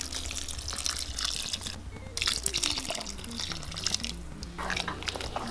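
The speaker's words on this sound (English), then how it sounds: "I think it needs some water." Water poured into a pot of lentil soup on the stove, a soft splashing trickle in uneven bursts, faint and close, with no talk.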